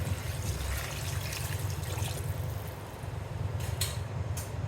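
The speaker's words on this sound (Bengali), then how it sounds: "কষানো হয়ে গেছে কাঁচা কাঁঠাল। এবার এখন দিয়ে দেবো পানি।" Water is poured into a pot of sautéed raw jackfruit curry, a steady close trickle and splash that runs for several seconds before tapering off.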